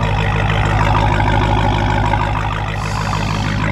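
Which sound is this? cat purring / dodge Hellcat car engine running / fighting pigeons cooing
dodge Hellcat car engine running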